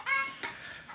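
Hens in a backyard coop on a small chicken farm, a short close cluck followed by a couple of fainter brief calls within a second.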